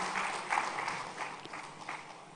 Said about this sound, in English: Can we give a huge round of applause and welcome him on the stage